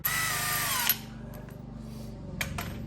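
A power tool spins off a strut mount nut, a loud whining burst of just under a second, then a low rattling hum as it winds down, with two brief sharp bursts near the end, close up.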